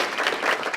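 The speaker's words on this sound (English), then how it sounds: "How about a round of applause for" An audience at a grant presentation claps in a short, fairly faint burst of applause lasting under a second.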